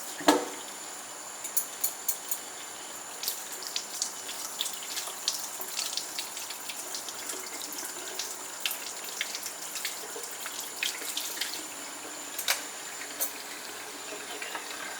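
Tap water runs steadily over a makeup brush being washed, a soft continuous splash broken by frequent small spattering bursts and drips as the brush moves under the stream.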